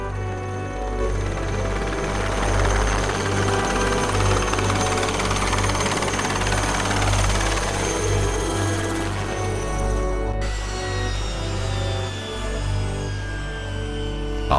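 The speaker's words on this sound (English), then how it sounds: "The helicopters disappear immediately after their Santa Claus act." An Indian Army Aviation Corps helicopter flies away, its rotor and engine a loud, steady, throbbing drone that fills the whole stretch with no voices.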